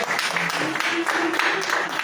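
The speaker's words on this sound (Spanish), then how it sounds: "Un aplauso al Señor" A church congregation applauds during an evangelical service, a soft, continuous spatter of clapping in a room with faint voices and sung tones mixed underneath.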